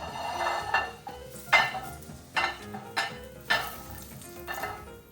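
A sausage fries and starts to burn in a pan, with a continuous sizzle broken by about five bursts of scraping and stirring at roughly one-second intervals.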